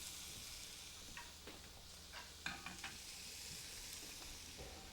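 Bacon fries in a hot non-stick pan, a faint steady sizzle and hiss with a few soft clicks and taps, quiet and close with no talk.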